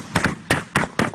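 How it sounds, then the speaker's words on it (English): Four sharp gunshots outside a family home in Ypsilanti, caught on a phone livestream, evenly spaced about a quarter second apart, loud and percussive with short echoing tails. "That's the sound of gunshots as Terrell did a Facebook Live"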